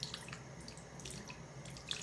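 Cold tap water running on a low flow to rinse a dental retainer, a soft steady trickle with faint splashes and drips nearby, no voices.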